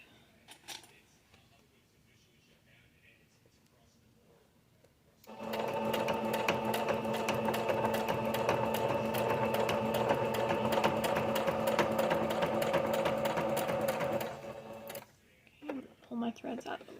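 A sewing machine stitches a badge holder in one steady, loud, fast run of about nine seconds, with quiet handling noises and a voice talking before and after.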